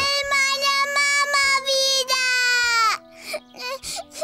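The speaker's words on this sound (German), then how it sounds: "warum weinst du denn so?" A young girl in a children's cartoon cries and sobs loudly in long wailing bursts, breaking into shorter whimpers at the end.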